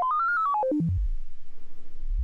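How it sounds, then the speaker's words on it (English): A Mutable Instruments Kinks patch makes a modular synth tone step up, hold, then fall in quick discrete pitch jumps like an 8-bit game sound, followed by a low pulsing buzz; close and clean with no talking. "That already sounds like an 8-bit thing, right?"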